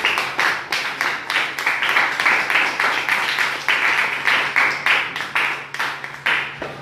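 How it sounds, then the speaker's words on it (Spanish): A church congregation claps together in a steady, rhythmic beat, loud and close in a reverberant hall, with no voices over the applause. "Si le puede dar fuerte aplauso al Señor."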